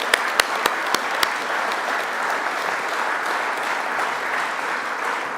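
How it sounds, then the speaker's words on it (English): A crowd applauds at a sports awards ceremony in Wairarapa, a few loud sharp claps at the start giving way to sustained, even applause that carries on throughout with no talking over it. "So big round of applause, ladies and gentlemen."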